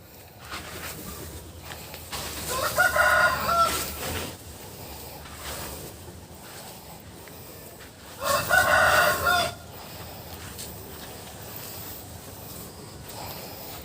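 Chickens crow and cluck inside a poultry house where sawdust is being spread to lower ammonia, with two loud bursts of crowing rising over a steady low murmur of the flock.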